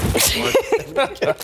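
A single short sneeze bursts out near a studio microphone on a morning television show, followed by brief talk between presenters.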